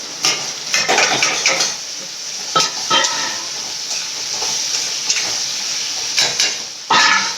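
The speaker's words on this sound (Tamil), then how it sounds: "ஒரு எறாவுக்கு வந்து வெங்காயம் வதங்கி வச்சுக்கலாம்" Onions sautéing in a pan for prawn curry, with a metal spoon repeatedly scraping and clinking against the pan over a steady frying hiss, close and fairly loud with no talking.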